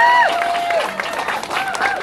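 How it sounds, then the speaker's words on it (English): Rally crowd at the Portland Power Past Coal rally claps while several voices whoop and cheer loudly nearby, a brief, lively burst of mixed clapping and shouting. "And yeah, that deserves an applause."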